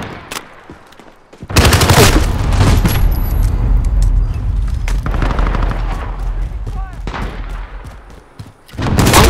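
Gunfire in the video game Modern Warfare: loud, sustained automatic bursts roar nearly nonstop for several seconds, with sharp shots before and a fresh burst at the very end.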